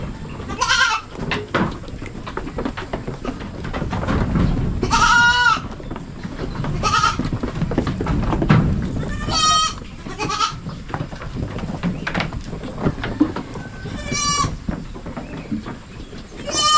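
Pet goats bleat repeatedly, several loud wavering calls close by and spaced a few seconds apart, over a low rumbling outdoor background.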